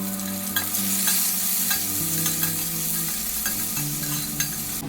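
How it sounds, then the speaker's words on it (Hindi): Capsicum and onion fry in hot oil in a pan, a steady close sizzle broken by regular scraping strokes of a stirring spoon, with no talk. "कैप्सिकम थोड़े पक गए तो इसमें डाल दी प्याज।"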